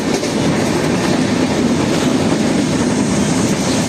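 A passenger train runs along the rails, a loud steady rumble with rhythmic clickety-clack from close inside the moving carriage.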